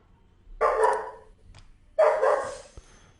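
Dogs barking twice, two short loud bursts with a pause between, heard alone and fairly near.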